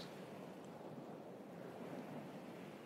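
Calm sea waves washing at a foamy shoreline make a soft, steady hiss and wash, faint and continuous with no distinct breaking crash and no voices.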